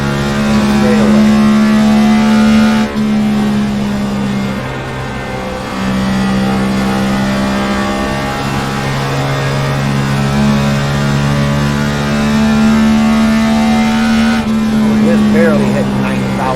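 Race car engine at high revs on a straightaway, loud and close with a steady sustained drone that dips briefly between pulls, a voice talking over it.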